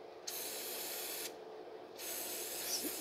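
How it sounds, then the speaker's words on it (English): Aerosol throttle body cleaner hisses from a spray can into the throttle body of a 2006 Mazda 3 with a 2.3 engine, in two close, steady bursts separated by a brief pause. "I just use the spray can itself. So we're going to clean it here."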